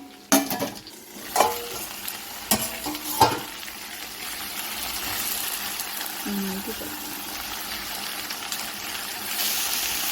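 Okra cooks in a pan, a steady low sizzle and bubbling after a few sharp clanks of a utensil against the pan near the start, later joined by a soft ladle stir.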